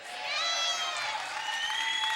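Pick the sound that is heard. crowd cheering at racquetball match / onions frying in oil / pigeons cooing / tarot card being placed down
crowd cheering at racquetball match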